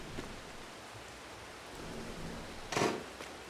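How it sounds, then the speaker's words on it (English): Rain falls in the video game Farming Simulator 22, a faint, steady hiss that swells into a brief louder burst near the end, with no voices. "Plus, it's raining."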